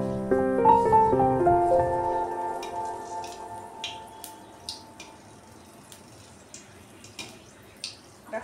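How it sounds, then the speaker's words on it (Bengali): Two chillies fry in hot oil, giving scattered small pops and crackles that come irregularly over a quiet background after a short tonal sound at the start. "দিয়ে দিলাম লঙ্কা দুটো তেলের মধ্যে, দিয়ে আমি লঙ্কা দুটোকে ভালো করে ভেজে তুলে নেব।"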